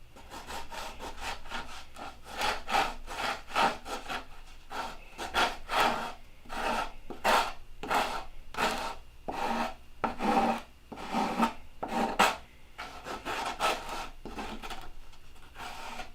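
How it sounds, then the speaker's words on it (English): Coarse 40-grit sandpaper dragging over a high spot on wood, a steady run of rough, rasping strokes repeating at an even rhythm, close and fairly loud with no talking. "You can hear that sandpaper dragging over the high spot"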